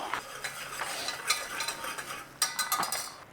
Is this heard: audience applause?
no